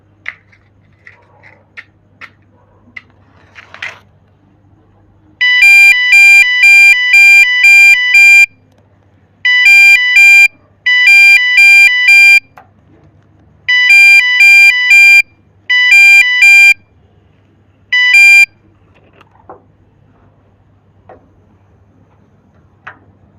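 A homemade gas and fire detection alarm sounds in loud, piercing electronic beeping bursts that start and stop in irregular groups, with quiet crackles and faint handling noise before and after.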